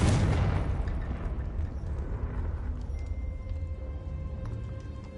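A Confringo fire spell goes off in the video game Hogwarts Legacy. A loud blast opens the sound, then a long rumbling tail fades away, with faint ambient tones behind it.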